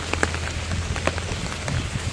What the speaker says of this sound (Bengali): আজকে দিনের বেলা অনেক বৃষ্টি হচ্ছে আমাদের গ্রামে